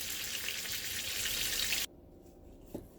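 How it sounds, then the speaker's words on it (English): Steak sizzling loudly in a pan with butter and garlic sauce, a steady fry hiss that cuts off abruptly partway through, followed by near quiet and a single soft clink. "use a spoon to baste your steak with the butter and garlic sauce"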